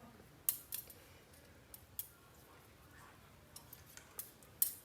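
Scissors snip loose bits off a handmade air plant hanger, giving a handful of faint, sharp, isolated clicks spaced irregularly over a quiet background.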